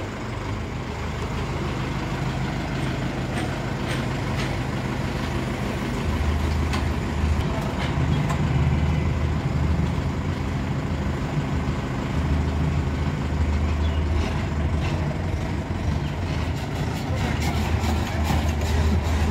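Mahindra 585 Yuvo Touch Plus 4x4 tractor engine runs steadily with a deep, loud rumble that swells partway through, with voices talking over it throughout.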